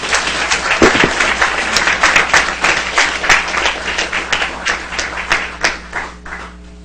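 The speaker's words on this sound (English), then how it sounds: "I'd like you to join me in a big round of applause for these guys." Sustained round of applause from a council chamber audience at a regular city council meeting honoring employees, dense steady clapping from many hands, loud and close, continuing for several seconds with no talk.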